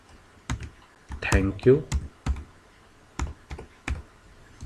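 Keys on a computer keyboard are tapped in scattered bursts while Python if-else code is entered, with a short spoken phrase in the middle of the clicking.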